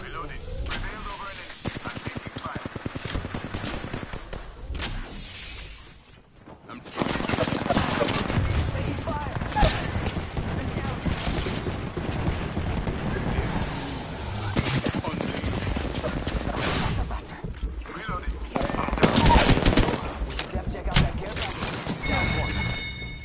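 Gunfire in the Apex Legends video game, with dense bursts of automatic weapon fire running nearly throughout, loud and close. A player talks over the shooting.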